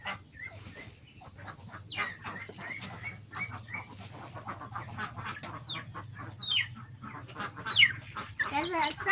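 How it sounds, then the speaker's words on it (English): Small chick chirps outdoors in a natural setting in South Sumatra, Indonesia, with repeated high, thin peeps scattered throughout over a faint steady background hum. "There's a sound, a chick."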